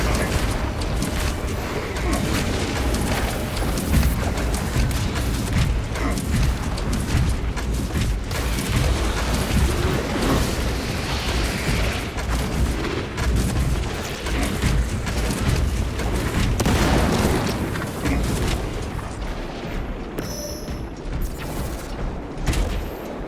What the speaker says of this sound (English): Fragmentation grenade!